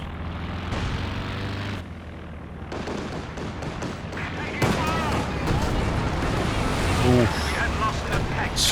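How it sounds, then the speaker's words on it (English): Howitzer shells pound the ground in a barrage in the World War II strategy game Company of Heroes 2, heavy booms and rumbling mixing with aircraft drone and gunfire while a commentator talks over it. "Oh, is that a howitzer barrage as well?"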